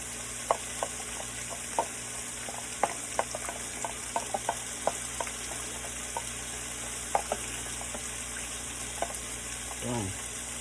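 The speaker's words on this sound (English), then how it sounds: "Stir that cornstarch in there, mix everything." Cornstarch being stirred into ribeye pepper steak with mixed vegetables in a hot pan: a steady, close sizzle broken by frequent light utensil clicks and scrapes against the pan.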